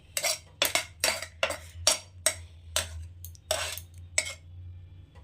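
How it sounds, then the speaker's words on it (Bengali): Roasted semolina being poured and scraped from a pan onto a metal plate, a series of about eight sharp scraping clinks in an uneven rhythm, close and fairly loud, with no talking. "তো এবার একটা থালার মধ্যে আমি ঢেলে নিচ্ছি সুজিটাকে।"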